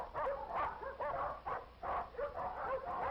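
Dogs kept in cages at a 1951 town dog pound give a series of rhythmic yelping barks, fairly loud and repeated about every half second, with a narrow, old-recording tone.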